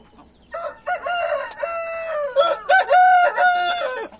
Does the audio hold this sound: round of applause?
no